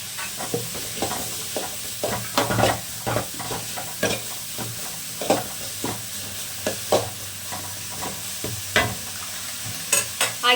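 Onions frying and sizzling in a pan for roadside-style egg rice, a steady sizzle broken by frequent scraping and knocking of a spatula stirring, close and fairly loud with no voices.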